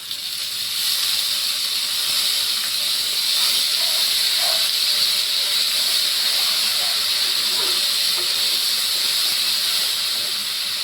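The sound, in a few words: ground ginger and cumin paste added to hot pan, sizzling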